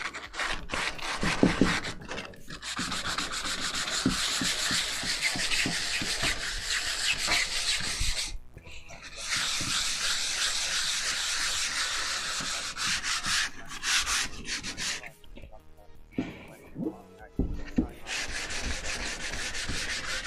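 Hand sanding scuffs the paint on a metal panel without cutting through to bare metal, a continuous close scratchy rasp of back-and-forth strokes with a few brief pauses, no talking.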